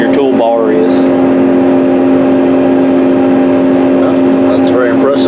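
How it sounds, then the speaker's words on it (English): A Case IH tractor crosses a field while planting corn, its engine a steady, loud drone heard from inside the cab, with brief rattles and clicks at the start and end. "tractor actually going across there as we are right now"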